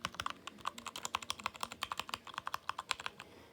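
Steady typing on a sticky computer keyboard, the keys clicking fast and close in an uneven rhythm, with some taps landing louder than others and nothing else heard.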